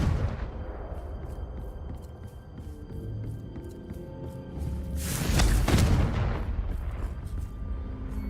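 Confringo fire spell explosion in the video game Hogwarts Legacy: a loud burst bursting through a steady rumbling game backdrop, swelling for about a second and then fading into continued low ambience.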